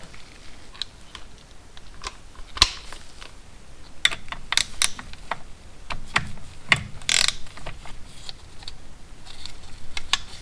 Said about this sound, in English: So I'm going to tighten that to 8 foot-pounds.